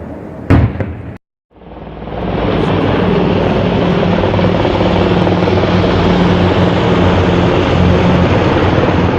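Helicopters flying by over a downtown area, a loud steady rotor drone that fills the air after a brief gap, continuing without talk.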